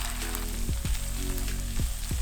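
Grated garlic and ginger stir-frying in a pan, a steady close sizzle with a few scraping stirs of a utensil against the pan, no voices.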